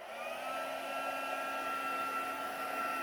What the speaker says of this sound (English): Close the lid and bringing in my heat tool.